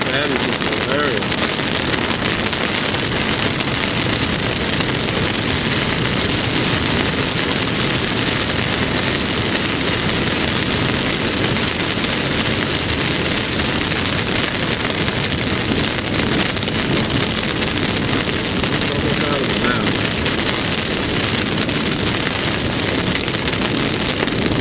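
A heavy Florida downpour pounds on a moving car as a loud, dense, continuous roar of rain and wind that never lets up.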